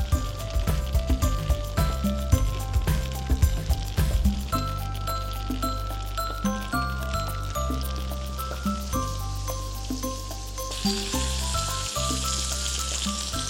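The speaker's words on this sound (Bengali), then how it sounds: "আমরা একটু বাড়িয়ে দিয়ে ফিশ ফিলে দিয়ে দিচ্ছি" Butterfish fillets fry in melted butter in a pan with a steady, close sizzle and a dense spattering crackle throughout, getting slightly brighter near the end, with no voices.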